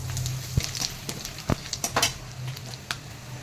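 Five-spice, dried red chillies and asafoetida sizzling in hot oil for a Bengali prawn and greens dish, a steady close crackle broken by several sharp pops and utensil taps.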